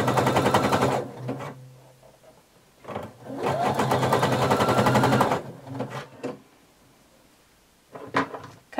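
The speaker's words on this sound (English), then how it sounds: "You're going to stitch using a wide zigzag stitch all the way around." A sewing machine runs a wide zigzag stitch around the hem of a DIY swimsuit top, with two long, rapid mechanical bursts, a pause, and a brief final run.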